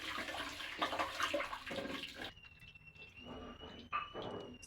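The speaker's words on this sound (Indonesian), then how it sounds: "Lalu saya cuci beras untuk menanak nasi putih." Rice being washed in water before cooking white rice, with sloshing and swishing water under a running-tap hiss, then a thinner tone as the water changes, close and steady.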